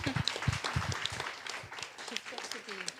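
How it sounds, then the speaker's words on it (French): Scattered audience clapping at a fashion round table discussion, fairly soft and uneven, with voices talking over and around it. "Je crois qu'on peut t'applaudir pour ce beau parcours."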